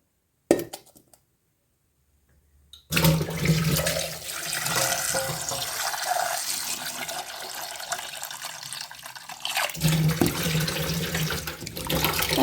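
Cassava pieces washed in a bowl of water, splashing and sloshing steadily and close by after a short silent stretch, with a brief clatter at the start.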